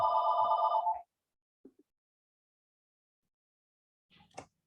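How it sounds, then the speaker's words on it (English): A telephone rings loudly in one electronic burst that lasts about a second, then stops. Near silence follows, broken by a few faint clicks and soft handling noises. "I just unplugged the phone. I'm sorry, I didn't realize it was going to be ringing all day."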